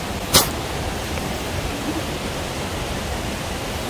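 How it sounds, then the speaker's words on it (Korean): A waterfall at a hard-to-reach spot on a stone trail pours in a steady broadband rush. The roar stays constant and fairly close, with one brief sharp knock near the start. "물소리 들려요."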